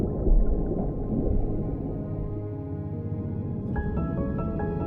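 Sperm whale vocalization in the deep ocean, a sustained tonal cry with layered harmonics over low rumbling water noise, joined near the end by higher stepped whistle-like tones, loud and continuous with no speech.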